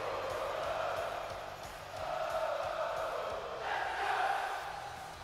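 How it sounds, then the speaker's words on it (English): A WWE 2K22 video game wrestling arena crowd roars and cheers in steady swelling waves, heard at a moderate, slightly distant level. "Listen to the crowd."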